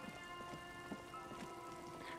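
Steady rain falling in the video game Disco Elysium, a faint continuous patter with scattered drops, alone with no talk.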